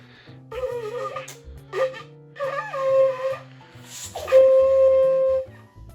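A homemade ram's horn shofar is blown in several wavering, breathy blasts, rising to a long sustained tone at the end, loud and close.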